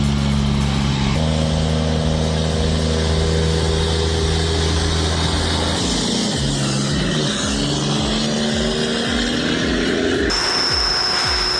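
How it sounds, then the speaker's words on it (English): A heavy timber truck hauling a load climbs a snowy forest road, its engine rumbling loud and steady with strong low harmonics that shift midway as it labours, no talk. "The engine's rumble isn't just sound, it's the pulse of determination as it conquers the climb."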